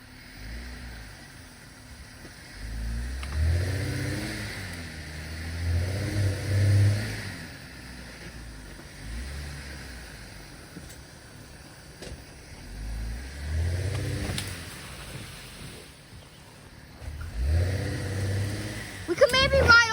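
A car engine revs in repeated surges while trying to pull a stuck vehicle off-road in the Catskills. The pulls are moderately loud, and voices talk between them.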